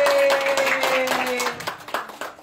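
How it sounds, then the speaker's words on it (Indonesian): A group of children at a Catholic children's gathering claps in quick, uneven bursts while an adult's voice speaks over them. "Tepuk tangan buat kalian semua"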